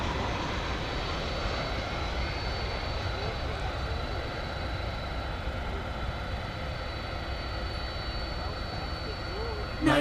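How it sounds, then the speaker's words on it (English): Boeing 767-300 jet airliner engines at DFW Airport at night, a steady broad roar and whine that holds for the whole stretch at moderate distance. "This is a 767-300."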